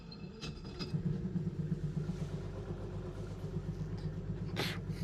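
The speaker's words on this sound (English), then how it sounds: "Okay, I'm gonna fire up my engine." A boat's outboard engine starts in a Florida mangrove setting and settles into a steady, rumbling idle with a clattering mechanical chug, close and continuous throughout.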